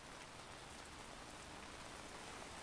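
Steady rain falls outdoors on a rainy afternoon, a constant dense hiss of drops with no breaks and no voices, heard at low level.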